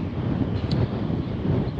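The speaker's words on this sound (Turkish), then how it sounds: "Görüyorsunuz değil mi rüzgarı?" Steady wind blowing at a lakeside carp and tench fishing spot, a continuous broadband rush buffeting the microphone with low rumble, loud and close throughout with no speech.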